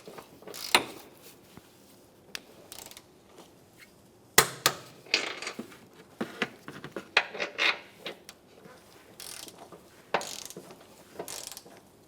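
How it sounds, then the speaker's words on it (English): Sharp ratcheting clicks come in uneven bursts from a torque wrench tightening the strut bolts on a 2007-2013 Acura MDX, close up with quiet gaps between pulls. "We can torque these down."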